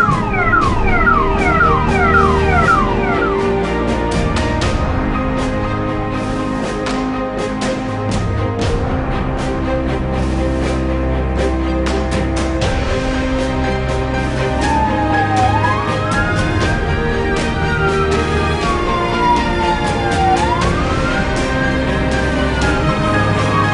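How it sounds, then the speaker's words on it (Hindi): An ambulance runs its full siren in heavy traffic, rising and falling wails sweeping loudly over dense engine rumble and scattered horn blasts, continuous and close throughout. "एम्बुलेंस का फुल सायरन ऑन है,"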